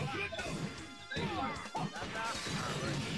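A sharp crash rings out as a fighter is slammed into glass in a JoJo's Bizarre Adventure fighting game match at a tournament, followed by further thuds and game effects in a busy, cluttered mix.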